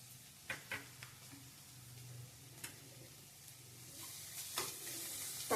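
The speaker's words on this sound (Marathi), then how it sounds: "चांगलं हलवून भाजून घ्यायचं आहे" Onion, chilli, tomato and ginger-garlic paste fry in butter with a quiet, even sizzle, punctuated by occasional stirring clicks and scrapes of a spoon against the pan; no one talks.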